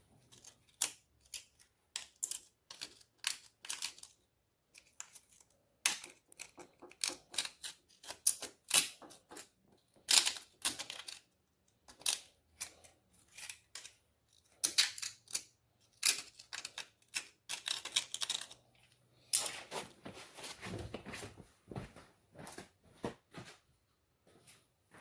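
A metal pick scrapes and picks at scale inside a part of a 1988 Honda ATC 250ES Big Red being stripped for restoration, giving quiet, irregular bursts of short scratchy clicks and taps with brief pauses, close up and alone.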